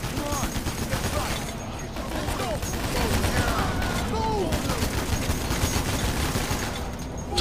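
Dense, continuous gunfire from a Payday heist shootout against police on the Slaughterhouse map, rapid overlapping shots and booms filling the whole stretch, with voices talking over the din.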